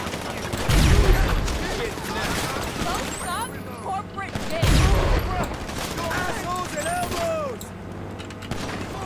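Gunfire in GTA 5 Online during a hard-difficulty mission, with two heavy booming shots a few seconds apart over a busy game soundscape of chirps and effects, and players talking throughout.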